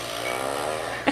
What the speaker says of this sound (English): It's a fart machine.